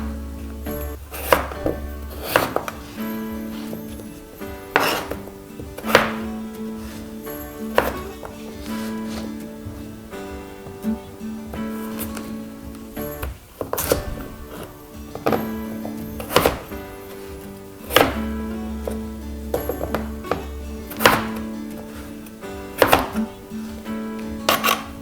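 A knife chops potatoes into pieces on a board, sharp close thunks landing at irregular intervals, sometimes in quick pairs, with short pauses and faint clatter in between.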